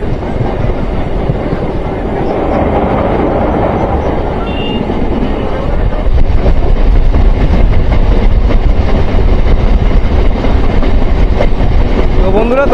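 A Naihati–Bandel local train runs over the rails, including a bridge stretch, with a loud, close rumble and rolling clatter from inside the carriage that grows heavier partway through.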